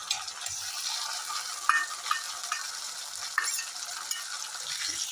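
Ground green chilli, ginger, cumin and garlic paste sizzles in a pan of onions fried until red, with a steady crackling hiss, close by, broken by a few soft stirring clinks and no talk.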